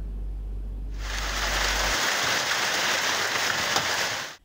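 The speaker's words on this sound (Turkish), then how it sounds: "Şimdi ise bugünden Gökbel yaylasından yağmur görüntüsü geliyor ekrana." Steady rain pours on the Gökbel plateau highlands near Alanya, Turkey, a dense even hiss of drops on surfaces that swells in after a second and holds loud and constant before cutting off.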